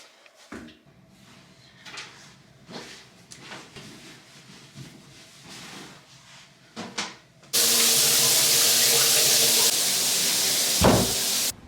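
Shower water runs in a home bathroom, starting as a sudden loud, steady hiss of spray after several seconds of faint clattering and shuffling, then continuing close and unbroken.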